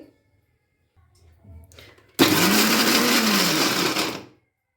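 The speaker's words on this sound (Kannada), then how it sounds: "ಈಗ ಇದನ್ನು ನಾವು ಮಿಕ್ಸಿಗೆ ಸ್ವಲ್ಪ ಮಿಕ್ಸರ್ ಮಾಡ್ಕೊಂಡು ಬರೋಣ ರೀ" After a few faint clatters, a mixer grinder blending carrot chutney roars on loudly and runs steadily for about two seconds before winding down.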